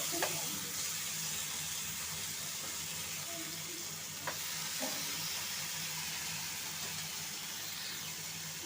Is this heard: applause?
no